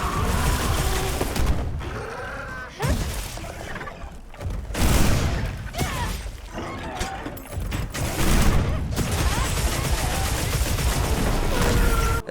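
Gunlance shelling blasts and combat from Monster Hunter Wilds: repeated booming explosions, slashes and roars blend into a dense, loud, continuous battle din.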